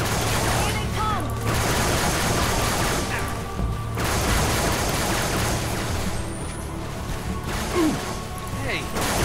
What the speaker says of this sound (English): Looks like they got carbines. We're under fire!